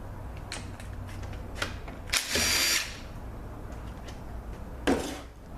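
Ratchet turning a 10 mm socket during a teardown of a Ford 6F35 transmission: a few faint clicks, then a brief louder ratcheting burst and a final short rasp, close up in a quiet shop.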